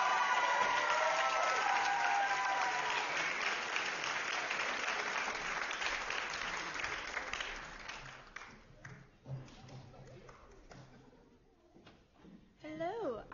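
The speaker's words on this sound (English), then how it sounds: "A final round of applause for our graduating seniors." Audience applause for graduating seniors at a high school choir concert fills the hall, loud and dense at first, then thinning into scattered claps and murmurs as it fades.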